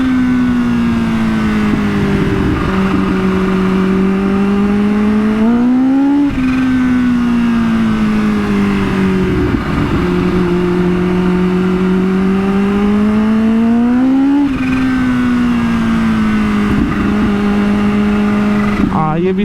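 A Kawasaki Ninja H2 ridden at night along a tree-lined canal road in Lahore revs up and down through repeated cycles, its engine pitch climbing and falling close by while a rider talks over it.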